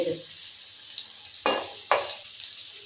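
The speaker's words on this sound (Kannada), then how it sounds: "ಸ್ವಲ್ಪ ಹಸಿಮೆಣಸಿಕಾಯನ್ನು ಶುಂಠಿ ಇದರಲ್ಲೇ ಫ್ರೈ ಆಗುತ್ತೆ ಎಣ್ಣೆಯಲ್ಲಿ" Green chilli and ginger fry in hot oil for amla pickle, a steady close sizzle broken by two sharp stirring scrapes near the middle, with no talking.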